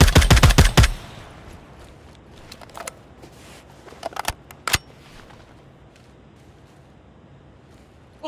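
Video game gunfire: a loud rapid burst of automatic fire at the start, then scattered single shots and metallic clicks fading into quieter background noise.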